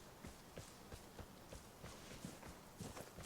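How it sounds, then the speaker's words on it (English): Rapid, regular footsteps thudding along in the video game Vigor, steady rhythm throughout, fairly quiet against a noisy background. "Footsteps."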